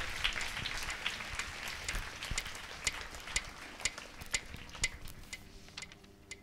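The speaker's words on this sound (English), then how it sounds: "Please give them also a big round of applause." Audience applause inside a basilica church during a special prayer meeting for students, a moderate clatter of hands that thins into scattered, separate claps toward the end.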